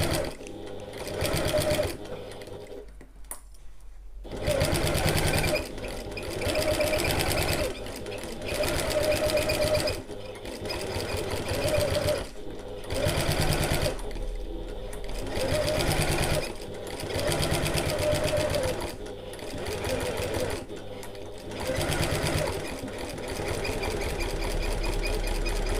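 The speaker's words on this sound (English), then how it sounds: "take your time as you sew along here, trying to maintain the seam allowance." A sewing machine runs steadily while stitching a bag seam, its close mechanical whir coming in long bursts broken by brief stops and restarts.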